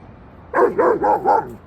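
A puppy gives four quick, close barks in an even rhythm after a short pause, with no talking over them.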